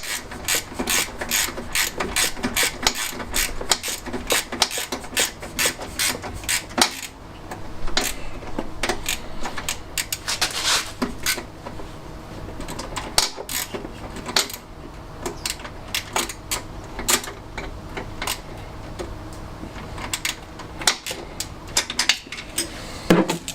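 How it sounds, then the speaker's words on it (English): A hand ratchet clicks steadily while bolts are tightened during engine refitting on a classic Fiat 500, a continuous run of crisp close-up ticks in uneven bursts across the whole stretch, with no talking. "Gonna ratchet in. Start ratcheting that."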